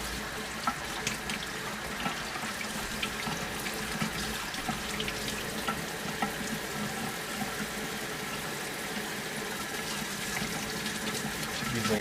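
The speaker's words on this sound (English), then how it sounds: "Using a spray here with some hot water to get all the gunk out." A sink tap sprays hot water over keyboard keys being washed, a steady, close hiss of running water that continues evenly throughout with no one speaking.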